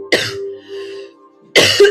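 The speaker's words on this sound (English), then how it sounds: "showing up with this cough" A person with a cough and laryngitis gives two sharp, close coughs separated by a short pause with a faint hoarse breath in between.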